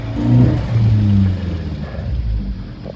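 Suzuki Jimny engine pulling in low gear on a snowy Manali road at night, a close, loud low rumble that swells early, dips briefly and holds steady under gentle throttle, with no talk.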